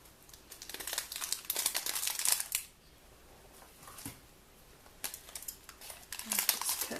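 A plastic pack of graham crackers being handled and opened, with close, busy crinkling in bursts that pause briefly and return.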